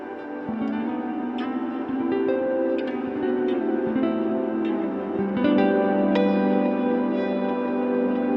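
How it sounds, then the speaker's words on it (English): Stereo guitar pedal running an infinite echo delay, sustained layered tones with repeating decaying notes stacking into a continuous wash, loud and steady with no talking. "guitar pedals are more fun when they're stereo and an effect that works on non-guitar things on a lot of stuff, like infinite echo"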